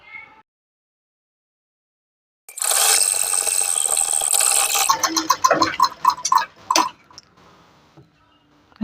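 A sewing machine runs in one steady whirring burst of about two seconds, then slows into a few clicking stitches and stops, up close, while stitching the side seam of a kameez.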